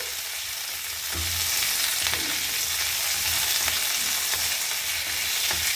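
Curry leaves sautéing in a pan for a coriander root chutney, a dense, steady sizzle close up with a few stirring clicks, no talking.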